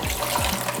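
Tap water runs steadily while a pot lid is washed off in a home kitchen, a close, continuous trickling and gushing with no talk.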